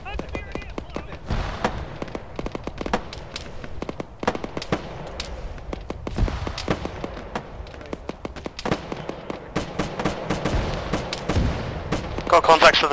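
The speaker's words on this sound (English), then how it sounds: "Somebody shoot that thing!" Sharp gunshots ring out in an Arma military game as troops fire on a hostile vehicle inside a base, irregular single shots and quick bursts, some close and loud, others distant, with voices calling out over the firefight.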